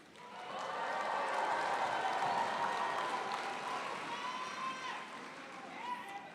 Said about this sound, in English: on the count of 3, you could clap or cheer or however the spirit moves you